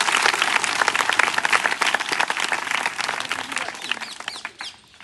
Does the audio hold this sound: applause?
yes